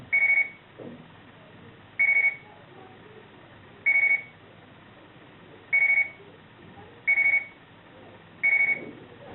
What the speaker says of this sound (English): the repeat rate of the alarm sound gets a bit faster every few seconds.